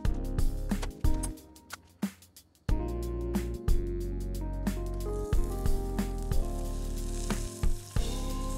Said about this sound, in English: So the next thing I want to do is toast my buns.